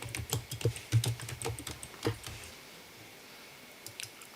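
Keys clacking on a computer keyboard while entering a job title into court reporting recording software, a quick close run of strokes that slows and thins out into near silence.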